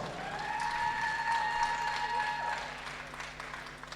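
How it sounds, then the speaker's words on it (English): Spectators at the 2017 World Classic Powerlifting Championships applaud the top three women's 63 kg squat finishers, a steady, moderate crowd clapping with a sustained tonal hum sounding alongside it. "Ladies and gentlemen, give us a round of applause to the best three in squat."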